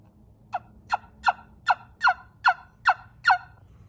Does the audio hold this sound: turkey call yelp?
yes